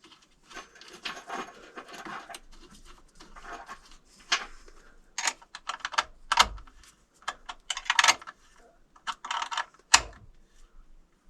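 A nut is tightened with a hand tool onto a battery terminal for a 2000-watt pure sine wave inverter. Irregular close metallic clicks and ratcheting rasps come in short bursts with pauses between them, and no one speaks.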